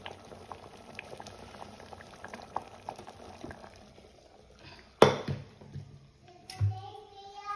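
Ridge gourd dal bubbling in a pot, a soft steady boil with small pops, followed by a few louder clanks and knocks of the pot near the end.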